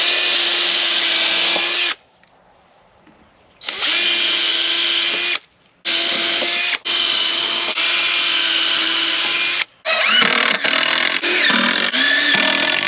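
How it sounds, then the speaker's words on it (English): Power driver sinking screws into wooden fence boards, several sustained loud whirring bursts of two to three seconds each, separated by brief pauses, the last runs choppier and stuttering. "probably want to put the new screws in first so it doesn't fall"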